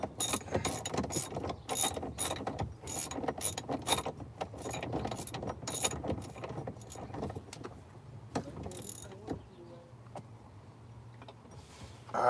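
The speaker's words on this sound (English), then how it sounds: "gonna take, what's this, like a 19 millimeter socket. And I got a ratchet." A ratchet turning a 19 millimeter socket, quick repeated clicking pawl strokes in close succession that slow and thin out toward the end, close and fairly quiet.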